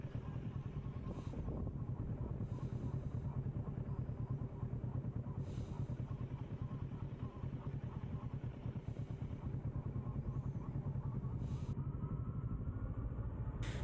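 A heavy motorcycle engine runs steadily at low revs riding downhill in Tubungan, Iloilo, rumbling continuously as it rolls along with a faint rattling clatter.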